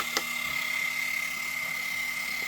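A parked RC model helicopter on a model aircraft carrier runs statically with a steady, high-pitched electric whine and a faint mechanical buzz, close and constant, with one brief click near the start.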